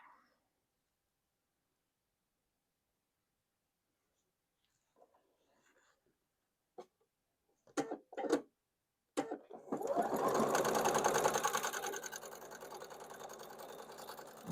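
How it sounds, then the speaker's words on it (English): A sewing machine stitching pieced quilt block fabric, heard as a few short starts and then a steady, close, continuous mechanical whir of running stitches that lasts to the end, with faint voices near the start. "I'm going to go ahead and sew all of those"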